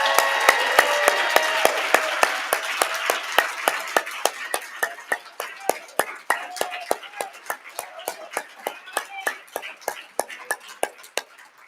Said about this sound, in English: Can we have a final round of applause for Charlie Miller, please?